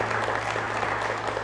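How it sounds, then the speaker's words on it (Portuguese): A church congregation claps steadily throughout, a dense, sustained round of applause with no pauses. "Você pode aplaudir ao Senhor?"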